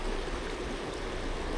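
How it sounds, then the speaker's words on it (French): A river rushes steadily at a crossing in the Haute-Savoie mountains, a continuous broad wash of flowing water, moderately loud and close, with no voices. "Donc ça c'est le passage de rivière."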